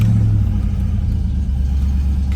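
A 1995 Ford Mustang GT V8 fitted with a cold air intake idles loudly just after a cold start on a chilly day, giving a steady deep rumble close by with no talking.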